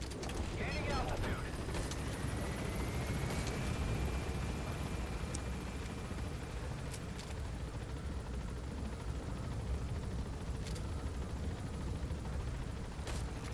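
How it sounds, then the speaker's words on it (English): A helicopter flies in the video game Metal Gear Solid V, its rotor drone a continuous, steady rumble with occasional sharp transient bursts over it. "So hard to shoot while this helicopter's moving."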